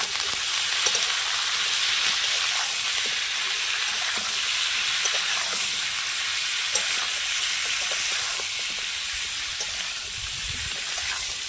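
Young jackfruit fries in hot oil with turmeric and salt, giving a steady, dense sizzle that holds evenly throughout, with occasional faint clicks of stirring and no talking.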